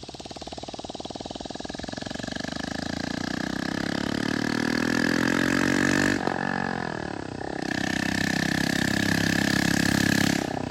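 A Honda Grom motorcycle engine runs close by, starting from a rough idle and rising into a loud, buzzing rev. Its pitch sweeps and dips briefly near the middle, then it swells again to a strong, steady drone.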